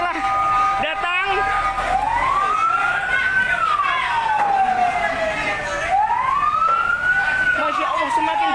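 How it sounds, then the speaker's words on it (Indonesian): A fire engine siren wails, rising and falling in long sweeps, loud and close, with a steady rumble of traffic or engine underneath, arriving at a market fire in Weleri. "Pemadam kebakaran telah datang."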